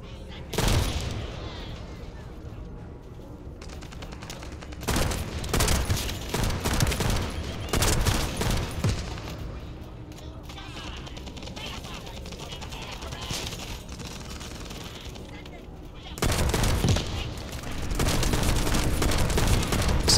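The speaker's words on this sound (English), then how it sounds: "It's a semi-auto sniper." Semi-automatic sniper rifle fire in The First Descendant, heavy booming shots in separated bursts over a constant game soundtrack and effects bed, loud and close, with a voice speaking at times.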